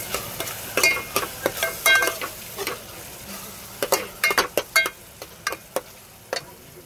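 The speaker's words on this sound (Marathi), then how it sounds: "याच्यामध्ये थोडी कोथिंबीर टाकते, ती पण तळून निघून" Garlic-ginger paste and coriander leaves frying in hot oil, a close sizzle broken by sharp clinks and scrapes of a spoon stirring against the pan in irregular bursts, with no voices.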